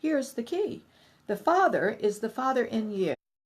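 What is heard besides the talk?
No distinct noise like a dog, phone or traffic.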